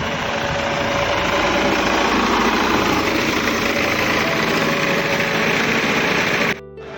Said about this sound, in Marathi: त्या पद्धतीने ट्रॅक्टर सुरू आहे बरोबर